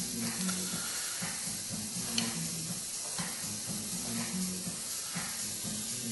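A small lathe built for turning wood runs with its power on, giving a steady, fairly quiet motor hum under a constant hiss, with no talking.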